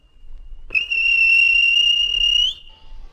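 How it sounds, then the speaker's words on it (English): A railway guard's whistle gives one long, loud, steady shrill blast of about two seconds, then cuts off, leaving faint background noise. "Then the guard blew his whistle."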